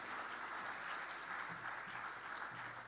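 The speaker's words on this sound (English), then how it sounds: "I demand a better clap." An audience at a finance event clapping steadily, a dense, even wash of applause heard at a moderate distance that lasts the whole moment without breaking.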